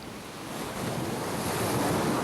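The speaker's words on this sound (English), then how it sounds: "The Pacific Ocean constantly batters the west coast of North America" Pacific Ocean surf pounds the west coast of North America in a continuous, loud roar of breaking waves mixed with gusting wind.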